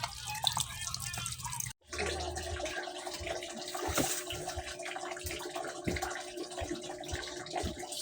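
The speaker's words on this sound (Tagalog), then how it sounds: "papunuin muna natin yung tubig tsaka natin hugasan" Tap water running into a basin for washing ampalaya (bitter gourd) in a home kitchen; after a brief break, a steady splashing stream fills the bowl with clinks and drips, fairly close and moderate in level.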